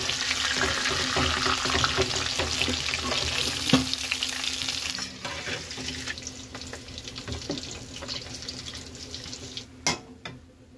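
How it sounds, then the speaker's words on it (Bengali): Chicken pieces fry in oil with a dense, continuous sizzle close by. Occasional clinks and scrapes of utensils punctuate it, and a few louder knocks come near the end. "এইগুলো আবার প্রথমে যেমন ভাজলাম ওইভাবেই ভেজে নেব।"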